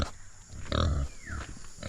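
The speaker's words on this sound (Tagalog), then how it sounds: "ano po yung ating alagang baboy." Pet pig on a Filipino farm grunting in short, rough bursts close by, several low snorts in a row against faint outdoor background.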